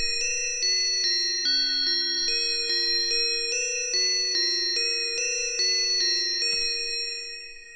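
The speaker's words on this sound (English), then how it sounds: "And so it's just a four note, really simple melody." A simple four-note synth melody for a trap beat rings out in bright, bell-like tones, notes repeating in a steady pattern with clean attacks and long sustain, alone and without drums or talk.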